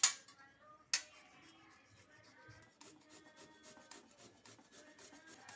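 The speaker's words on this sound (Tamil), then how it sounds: "இப்போ கேரட் சீவுற துருவலில் வச்சு இதை திருவி எடுத்துக்கலாம்." Peeled, boiled sweet potato is grated on a carrot grater. Two sharp knocks open the clip, then a soft, close scraping rasp repeats in a steady rhythm at low volume, with no talking.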